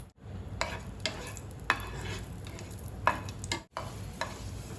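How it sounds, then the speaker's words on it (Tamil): Raisins fry in melted ghee, giving a soft steady sizzle with a few sharp spoon scrapes and taps against the pan as they are stirred. The sound is fairly quiet and close, with no voices. "இப்போ இந்த நெய்யில் இந்த கிஸ்மிஸை நம்ம கொஞ்சம் வறுத்து எடுத்துக்கலாம்."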